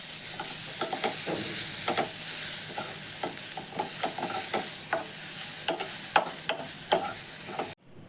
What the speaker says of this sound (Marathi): आतां ही सोय आनी हे कांदो बरो भाजून घेवया